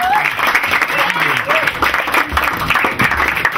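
Steady applause from a crowd at a live jazz performance, dense clapping throughout with some voices and cheering mixed in, fairly loud and close.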